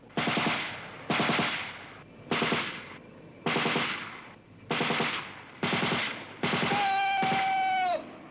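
Military machine gun group firing straight ahead on command, heard as seven evenly spaced loud bursts of rapid automatic fire, the last overlapping a sustained whistle-like tone.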